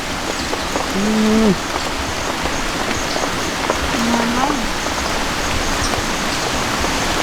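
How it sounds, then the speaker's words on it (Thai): Steady rain falls through a forest, a broad hiss of drops on leaves and ground, with a few brief voiced sounds standing above the wash. "ตอนนี้บรรยากาศฝนตกพี่น้องเอ้"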